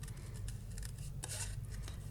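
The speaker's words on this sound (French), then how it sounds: "Et avec le ciseau Stampin' Up, c'est que du bonheur hein, de découper." Stampin' Up scissors cutting paper, giving short snipping bursts over a low steady hum, close and fairly quiet, with no talk.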